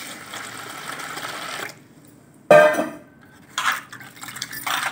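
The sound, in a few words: washing dry fish in water, stirring by hand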